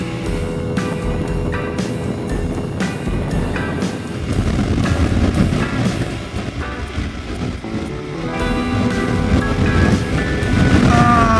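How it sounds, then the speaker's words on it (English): Motorcycle engine droning steadily under heavy, buffeting wind noise from gusts around 35 mph that surge, loud and continuous throughout. "the wind gusting at probably 35 miles, which is making the motorcycle a bit unsteady"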